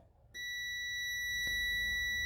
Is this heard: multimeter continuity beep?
yes